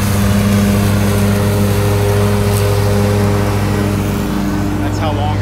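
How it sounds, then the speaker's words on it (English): A lawn mower cutting long grass in a single pass, its engine droning loud and steady up close without a break, with a person talking over it. "So the boss is mowing that. And look, this is one pass, guys, and it's pretty long."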